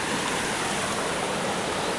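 River water rushing steadily at a site where a large swimming pool is being dug into the riverbed, a dense continuous wash of flow heard close and alone.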